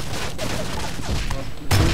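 Rapid gunfire crackles through the Facebook shooting game Ballistic, a steady burst of shots under background noise ending in a louder, heavier blast near the close.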